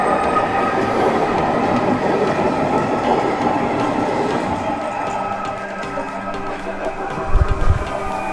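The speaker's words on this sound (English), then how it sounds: "you need to cross the tram tracks, but just watch in case there's a tram coming by you" An Edinburgh tram rolls along its tracks, a loud, steady rumble with faint clicking and wheel hiss that slowly fades, then a few low thumps near the end.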